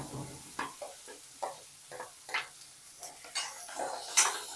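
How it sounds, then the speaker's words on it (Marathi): Finely chopped onion frying in hot oil in a kadhai, soft sizzling broken by a series of rhythmic scraping stirs against the pan, fairly quiet and close. "आता हे तेल तापलेलं आहे, त्याच्यामध्ये हा बारीक चिरलेला कांदा टाकूया।"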